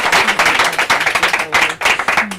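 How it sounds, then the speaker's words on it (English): Audience applause at a talk show, loud, close, rapid clapping from a group that continues throughout without pause. "Please do give them a round of applause."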